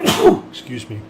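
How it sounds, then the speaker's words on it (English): A single sharp sneeze bursts out up close, followed right away by a person speaking briefly. "That was a sneeze this time."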